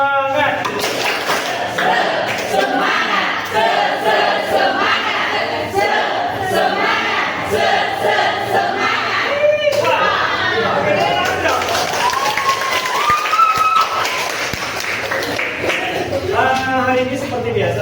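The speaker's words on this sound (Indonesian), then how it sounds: "Tepuk semangat." A classroom group performs a 'tepuk semangat' spirit clap chant, rhythmic claps and shouted voices together with a lively crowd sound running steadily and loudly throughout.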